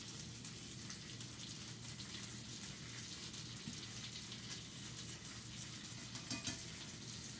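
A salmon fillet sears in a hot pan with a dense, steady sizzle and crackle that holds at an even level throughout, with no voices.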